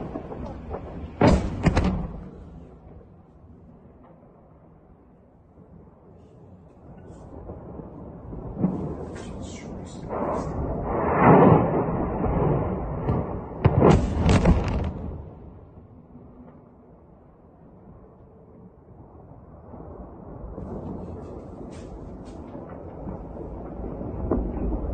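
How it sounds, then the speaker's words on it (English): Distant booming secondary explosions at an ammunition depot in Russia's Voronezh region roll in bursts, a few heavy thuds and sharp cracks rising then fading, separated by quieter stretches of low rumble. "multiple secondary explosions going off here"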